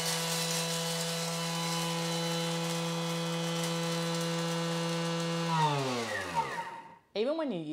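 A Thermomix at speed 10 grinds peppercorns for a Thai Panang curry paste, giving a loud steady motor whine with strong harmonics that holds for about six seconds, then winds down in a falling pitch before a brief restart.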